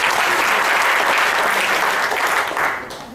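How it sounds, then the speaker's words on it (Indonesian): Loud, dense applause from an audience at a talk, a steady wash of many hands clapping that holds for about three seconds before tapering slightly at the end, with no voices over it. "Tepuk tangan paling meriah untuk kita"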